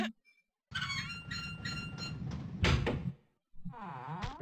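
A new type of sliding door in a video game opens with a loud mechanical whirr and clunk, then a short gap and a second squeaky sliding rush, with no voices.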